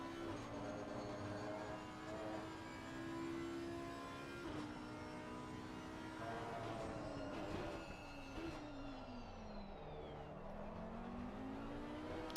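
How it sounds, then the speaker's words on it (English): Audi GT3 race car in Assetto Corsa Competizione at Barcelona, heard onboard: a steady engine drone rising and falling through gear changes and revs, continuous and loud with no talk over it. "Not that often we get to listen to the Audi anymore."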